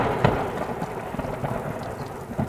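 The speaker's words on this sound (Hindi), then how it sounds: "लेकिन बारिश लगातार होती रहती है।" Heavy rain pours steadily in the jungle, a dense, constant close hiss with low rumbling undertones and no voices.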